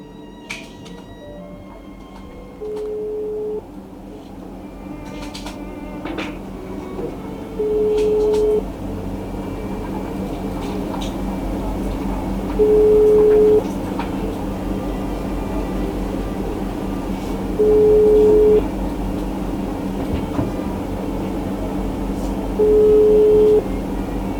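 A phone ringback tone heard while placing a call: five short, steady beeps spaced about five seconds apart, repeating at a clear even rhythm over a constant low rumbling background hum, with no talking.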